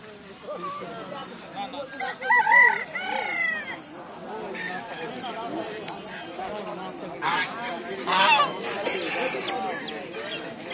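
Geese and chickens call from a village poultry market, honks and clucks breaking out now and then beneath steady nearby conversation between buyers and sellers.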